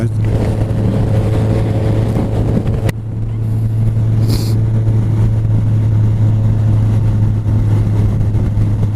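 Kawasaki Z1000 motorcycle cruising in sixth gear at about 3,000 RPM, a steady low engine drone with a strong hum, loud and continuous over wind noise, no speech.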